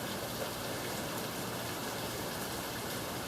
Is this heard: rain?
yes